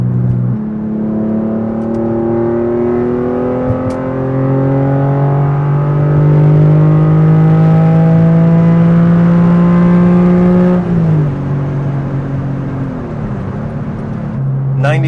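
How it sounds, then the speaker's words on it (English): A flood-salvage Porsche with an overheating history accelerates hard through a full third-gear pull, its engine note climbing steadily in a loud, sustained rising drone before easing off near the end. "after a full third gear pull"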